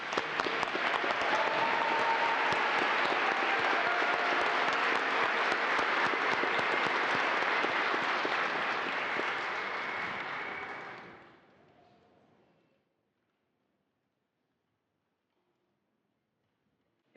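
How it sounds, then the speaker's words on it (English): Sustained applause from a commencement audience for new master's graduates at Chadron State, a dense, even wash of clapping lasting about eleven seconds before dying out to silence. "Please join me for a final applause for our new master's graduates."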